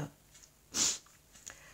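A single sharp sneeze bursts out near the microphone as part of a repeated sneezing fit, with faint breathing and a softer snort-like sound afterward.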